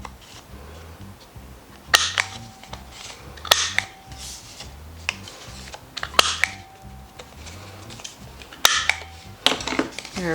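Paper corners rounded with a corner punch while making Hershey Nugget stocking-stuffer packets: a series of sharp, close clacking punches, spaced a second or so apart, over a low background hum.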